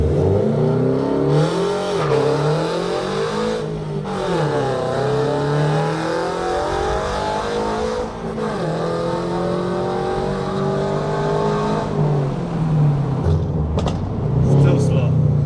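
A 2022 Toyota GR86 with a full aftermarket exhaust revs loudly and repeatedly, engine pitch rising and falling, with someone talking over it throughout.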